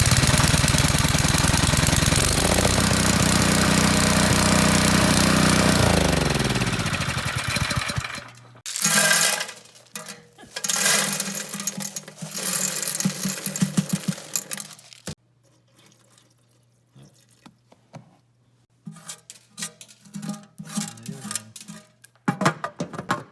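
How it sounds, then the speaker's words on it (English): A small engine on a water pump starts and runs as a test after a gas tank change, first a loud steady drone that winds down, then rough, uneven sputtering bursts and surging with brief pauses, close by. "we're gonna give it a test to make sure the engine runs"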